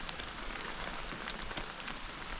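Light rain patters steadily onto surfaces at a motorcycle campsite at dinnertime, a soft, even hiss of scattered drops with no voices.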